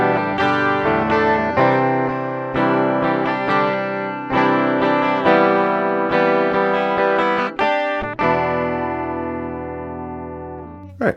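An Aklot Strayloom electric twelve-string guitar plays bright, jangly strummed chords with a sharp, trebly bridge-pickup tone, ringing out in a steady rhythm and finishing on a sustained chord.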